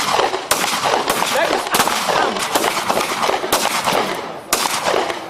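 Repeated gunfire cracks from a live firing exercise with navy and security officials, loud bursts recurring every second or so over a dense, noisy outdoor background.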